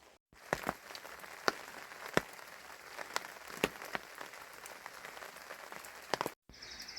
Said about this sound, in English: I'm just going to listen to this rain.